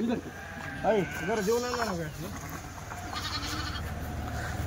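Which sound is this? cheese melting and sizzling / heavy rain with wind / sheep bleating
sheep bleating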